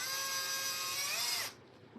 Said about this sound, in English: We got to drill a hole right here